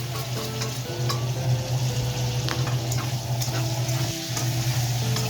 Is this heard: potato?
yes